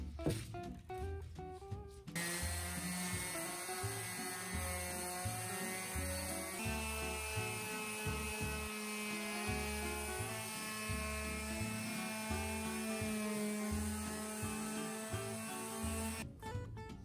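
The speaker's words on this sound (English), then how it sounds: "I load up my sander with 150 grit sandpaper and leveled everything out." A power sander fitted with 150 grit sandpaper levels set Bondo on an upcycled cornhole board, a steady droning whir that runs close and loud nearly the whole time, with brief pauses near the start and end.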